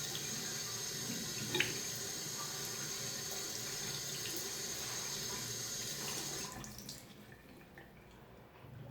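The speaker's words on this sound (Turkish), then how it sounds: "İlk önce maskeyi güzelce bir sıcak suda her tarafını güzelce bir ıslatıyoruz." Hot tap water runs steadily into a sink while a fabric face mask is soaked through, a continuous close hiss that cuts off near the end, leaving quiet room tone.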